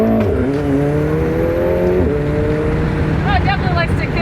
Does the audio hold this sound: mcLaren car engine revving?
yes